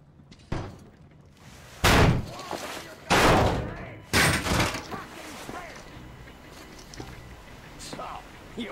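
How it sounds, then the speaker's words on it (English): A door is shoved and forced open in the video game Metro Exodus, with several heavy thuds and slams in a row, loud and close, amid voices and game ambience. "The door's giving! Let's give it a shove,"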